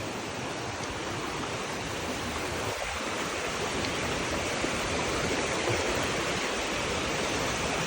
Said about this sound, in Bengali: ও এই যে ঝর্ণা।